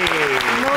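Studio audience applause on an Eid special television show, a brief dense burst of clapping with a person's voice carrying over it.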